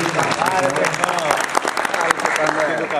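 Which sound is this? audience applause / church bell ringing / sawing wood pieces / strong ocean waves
audience applause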